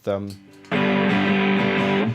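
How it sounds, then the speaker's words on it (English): A brief voice gives way to a loud, sustained distorted electric guitar chord that rings out thick and buzzing for over a second. "with distortion, you get a nice big wall of guitar sound there"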